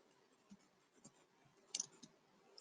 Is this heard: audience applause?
no